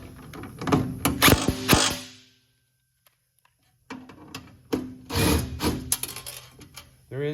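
Metallic ratcheting and clicking from a wrench tightening 1/2-inch bolts and nuts on an Atlas AT50 wobble clay trap, heard close up in two bursts of turns separated by a quiet pause of a second or so.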